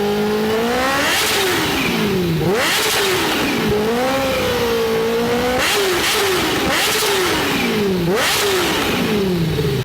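A loud Kawasaki H2R motorcycle engine revving hard again and again, pitch sweeping up and dropping back in repeated bursts, close and continuous.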